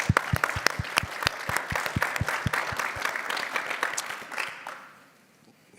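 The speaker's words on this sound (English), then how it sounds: "So a big round of applause to you." Enthusiastic applause from an audience at a community town hall in a Vancouver synagogue, dense steady clapping that tapers off and fades out near the end.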